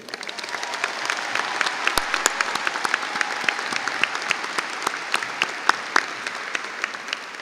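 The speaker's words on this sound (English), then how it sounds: "Another warm round of applause for those two." At a 2026 high school graduation ceremony, the audience gives sustained applause after two student singers, dense clapping with sharp individual claps popping out, fairly close and continuous throughout.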